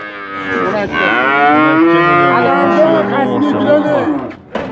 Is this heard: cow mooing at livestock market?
yes